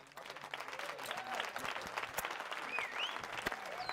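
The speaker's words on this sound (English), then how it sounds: "Give me claps." A crowd applauds in a fairly faint, steady wash of clapping with a few brief high whistles mixed in, and no talking.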